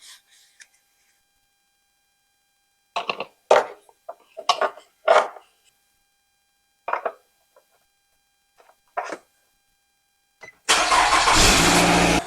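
Nissan Rogue second generation 2.5L QR25DE engine after an oil and filter change: scattered clunks and taps over near silence, then the engine starts and runs loud and steady for the final couple of seconds.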